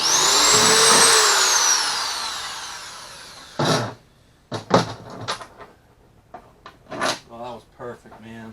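A high-pitched power drill whines steadily for a few seconds while drilling holes in a plastic Pelican Catch 130 HD kayak, then stops; afterward come clunks of handling and someone talking.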